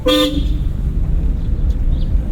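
A car horn gives one short, loud toot at the start of a driving lesson on the road, followed by steady low traffic and engine rumble.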